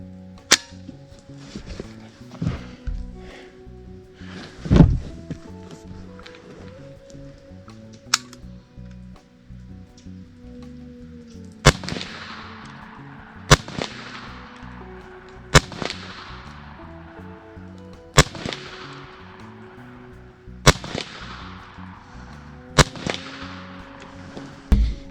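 Shots from a B&W S45 semi-auto PCP big bore air rifle with iron sights, each sharp crack followed by a ringing clang from steel gongs, about ten spaced shots over a quiet outdoor background.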